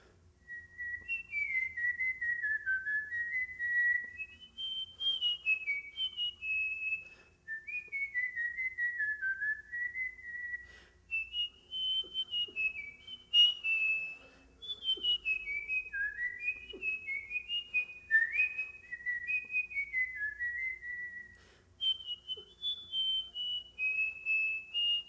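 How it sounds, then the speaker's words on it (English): A person whistling a quick, lively tune alone, clear and close, with rapid melodic phrases separated by short breaths. "let's see if I can whistle it."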